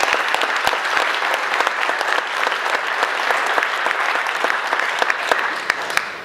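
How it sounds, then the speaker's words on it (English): Audience at a mayoral candidate forum applauds steadily after a closing statement, a dense, even wash of clapping held at a constant level throughout with scattered sharper claps and no speech. "You can applaud."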